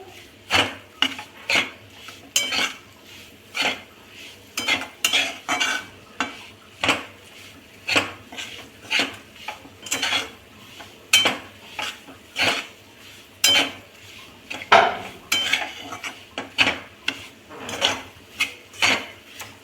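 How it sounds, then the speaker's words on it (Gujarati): Wheat flour roasting for sheera in a pan over a low flame, with a spoon scraping and stirring in a steady repeated rhythm of rasping strokes, close and fairly loud, with no talk. "ગેસ એકદમ ધીમો રાખવાનો છે અને ધીમા તપે જ શેકવાનો છે"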